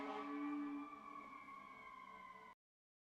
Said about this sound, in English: all these sirens decide to come now